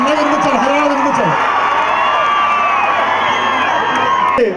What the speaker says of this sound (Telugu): గట్టిగా చప్పట్లు, గట్టిగా.